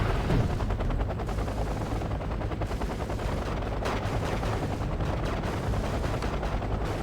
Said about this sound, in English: from the other side of the map you can hear this thing shooting